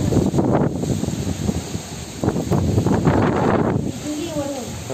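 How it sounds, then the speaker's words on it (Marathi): Strong cyclonic wind and rain batter the Konkan coast during a storm, a loud continuous roar buffeting the microphone with gusts, while people talk over it. "हवा पाणी एकदम जोरात"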